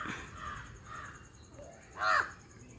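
Crows caw a few times outdoors, mostly moderate calls with one loud, close burst near the end over a steady background hum.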